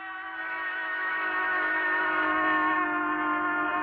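A train whistle holds a steady, loud multi-harmonic tone with a slight pitch shift as it passes, illustrating the Doppler effect; no voices.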